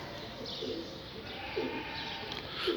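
Soft pigeon coos repeat a few times over a steady background hiss, faint and somewhat distant, from pigeons on a house rooftop.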